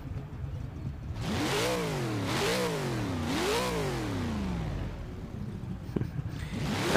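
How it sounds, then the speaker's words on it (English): An AMC Gremlin V8 in the racing game Forza Horizon 3 revs repeatedly, three rising and falling engine sweeps at a steady pace, loud and close, then settling back to idle. "Let's hear the engine. Ooh, man, I love that sound of V8."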